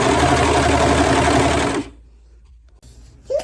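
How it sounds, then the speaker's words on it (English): A serger overlocks fabric edges while sewing a pair of pants, running at a steady, dense buzz for nearly two seconds before stopping abruptly and leaving near silence. "now I'm going to try to serge the edges like a pro"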